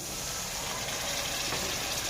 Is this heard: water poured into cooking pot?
yes